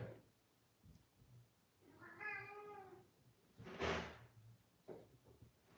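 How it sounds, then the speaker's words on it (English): A single drawn-out cat meow in a quiet room, followed by a soft thud or bump nearby. "That's our cat, Thorfinn."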